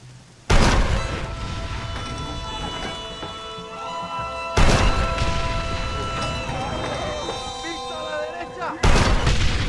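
Heavy booming cannon blasts in Red Dead Redemption go off at intervals, each opening a long rumbling roar of battle noise that continues steadily between the hits.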